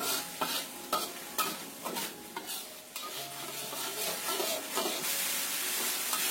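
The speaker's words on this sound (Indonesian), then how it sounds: "Kita aduk sampai tercampur rata." Tofu stir-fry seasoned with sweet soy sauce and oyster sauce, stirred in a pan with steady close sizzling and repeated scraping strokes of a utensil throughout.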